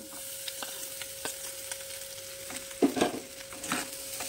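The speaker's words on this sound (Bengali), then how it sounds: "এবার আমি ভাতগুলো দিয়ে দেব" Leftover rice tipped into a pan with fried egg and vegetables and stirred, a steady low sizzle with scraping spatula strokes and a louder clatter of stirring near the middle, no voices.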